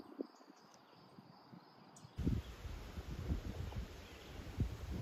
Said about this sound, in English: if you can hear the wind and you can see the clouds moving